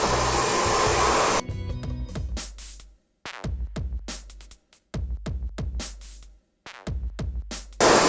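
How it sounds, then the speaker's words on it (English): Hair dryer blowing loudly and close for styling hair into a pompadour, then cutting off and starting again in repeated short bursts of steady rushing air. "anytime you're blow drying"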